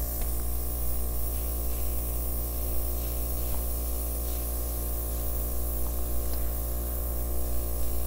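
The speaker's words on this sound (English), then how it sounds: "This airbrush is available on Amazon." An airbrush sprays acrylic paint during a flip-and-drag acrylic pour, giving a steady, close hiss with a low hum beneath that runs unbroken and without talk.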